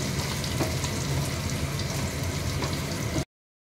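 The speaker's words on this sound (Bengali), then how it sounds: "ভাজছি, পুরো নরম করে ভাজবো" Pumpkin pieces frying in hot oil with black cumin seeds in a pan, giving a dense, even, continuous sizzle close by that cuts off abruptly.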